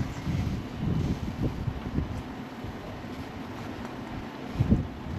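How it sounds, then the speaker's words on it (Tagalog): Strong wind buffets and roars in uneven gusts, with a few louder bursts, all fairly low and without voices. "Ngayon nga, napakalakas ng hangin."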